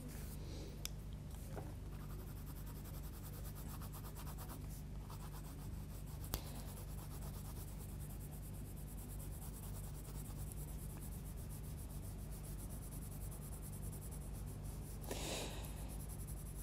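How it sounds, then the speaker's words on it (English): A pencil tip from a Derwent drawing kit scratches steadily across paper in fine, continuous strokes, with soft rubbing and a few faint taps, close and quiet with no talking. "I'm going to start using the tip of the pencil again, so I've got more control there."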